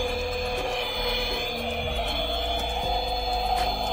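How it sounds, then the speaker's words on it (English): A small battery-operated toy vacuum cleaner runs continuously with a thin, steady electric whine and buzz, close and moderately loud, with faint handling clicks. "Vacuum cleaner."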